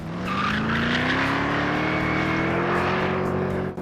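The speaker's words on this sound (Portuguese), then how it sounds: "Um V8 modular todo de alumínio, superalimentado, barulhento e estridente" Supercharged all-aluminium modular V8 of a Ford GT revving up in one long rising howl, loud and close, with a strident whine over the engine note.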